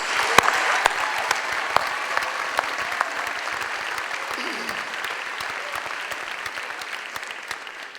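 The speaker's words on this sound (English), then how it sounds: "can we please give our senior speakers one more round of applause?" A graduation ceremony audience gives the senior speakers a sustained round of applause, dense overlapping clapping holding steady and fairly close for the whole stretch before slowly easing.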